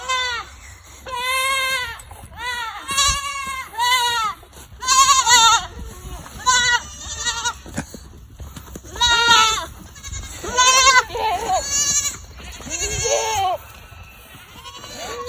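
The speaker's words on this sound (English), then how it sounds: "there's all our goats and our bottle brats screaming at us" Several goats, including bottle-fed kids, bleat loudly and insistently, overlapping high wavering cries in bursts with short gaps, close by.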